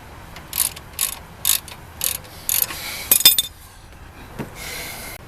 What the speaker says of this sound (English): Let's get this caliper off. 18 millimeter.